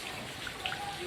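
Light morning drizzle falls outdoors, a soft, faint hiss of rain with a few scattered drip ticks over a brief moment.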